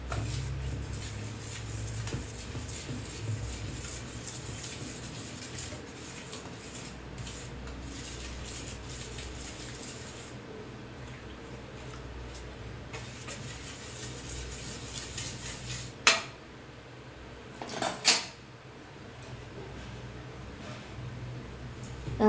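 Rava appam batter is stirred in a bowl with a spoon, steady scraping and rubbing of utensil against the dish continuing for a long stretch, with a few sharp clinks near the end.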